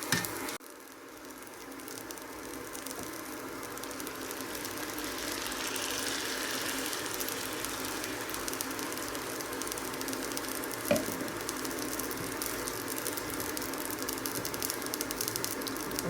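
Minced beef browns in a hot pan for Cajun mince spaghetti, a loud, dense sizzle that carries on steadily and unbroken for the whole stretch, with only one faint clunk partway through.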